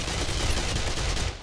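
SMG fire in the video game 7 Days to Die rattles as a dense, rapid automatic burst lasting just over a second, loud and close, then cutting off abruptly.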